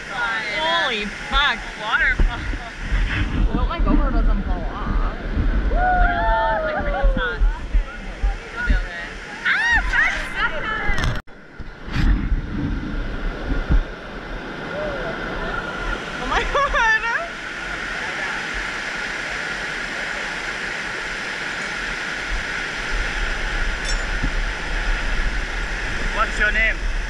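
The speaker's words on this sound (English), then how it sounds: "Waterfall." Rushing water roars steadily while canyoning down waterfalls in Vietnam, loud and close, with splashes and shouting voices over it early on, then a more even, constant wash of falling water.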